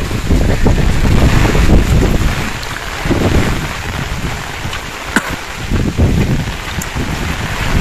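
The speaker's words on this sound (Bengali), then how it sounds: "এত বাতাস যে আমি হেঁটে যেতেই পারছি না" Strong cyclone wind from Cyclone Sitrang in Bangladesh buffets the microphone in heavy roaring gusts, with a rushing, rain-laden wash that swells and eases over several seconds, loud and close throughout.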